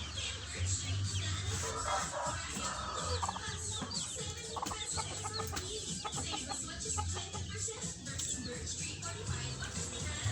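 Chickens cluck and fuss steadily over a noisy, busy background, with faint rustling throughout.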